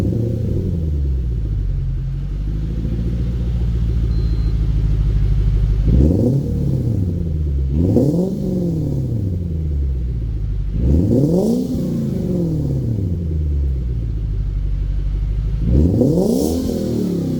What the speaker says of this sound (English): let's get a cold start and let's get some revs